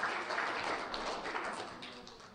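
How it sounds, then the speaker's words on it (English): A live audience gives a round of applause for two volunteers after a magic segment: a dense, steady wash of many hands clapping, fairly quiet and distant, fading slightly at the end. "give our 2 volunteers a humongous round of applause"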